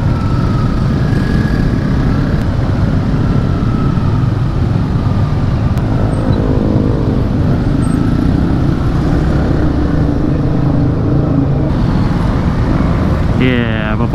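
Continuous loud road traffic rumble of cars and motorcycles in slow congestion at Ciberem, engines idling and revving nearby, with a brief rising engine whine near the end.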